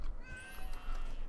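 Cats in the video game Fowl Space let out a brief, close meow, a single short call with a faint game hum underneath.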